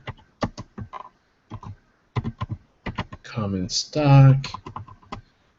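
Quick bursts of keys clatter on a computer keyboard while balance sheet figures are entered, separated by brief pauses, with a person talking partway through.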